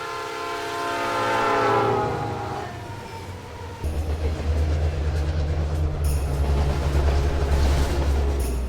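Train ride in the Pokemon Reborn video game: a soft melodic game tune fades out, then a loud, steady low rumble of rolling train sounds takes over and continues to the end, with no talk.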